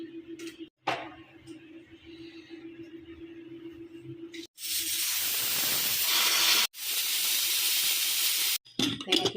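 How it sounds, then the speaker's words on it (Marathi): Pressure cooker on a stove cooking dal with water, salt and turmeric lets off two long, loud whistling hisses of steam, each lasting a couple of seconds, after a quieter stretch of low kitchen hum. "कुकर झाकण लावून डाळला दोन ते तीन शिट्या घेऊ"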